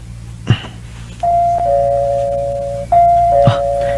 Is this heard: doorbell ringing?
yes